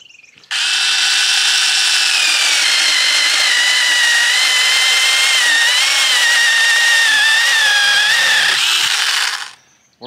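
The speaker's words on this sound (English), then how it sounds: "Looks like a chainsaw." A small cordless 6-inch mini chainsaw whines loudly and steadily for several seconds while cutting firewood, then winds down and stops.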